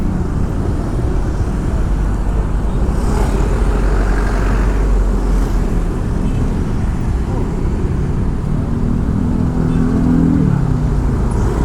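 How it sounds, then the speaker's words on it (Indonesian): Midday city traffic jam on Jalan Teuku Umar in Denpasar, Bali, with cars and motorcycles: a loud, steady wash of engine rumble and road noise that carries through the whole stretch. "Kayaknya udah kena macet di depan ini."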